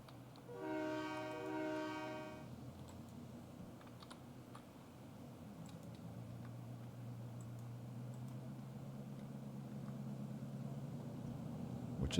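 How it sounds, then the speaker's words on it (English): Horn of a model sand train pulled by two GP9 locomotives sounds as a short harmonic blast near the start, followed by a low steady rumble of the moving train; no talking. "Okay, sand train is ready to go"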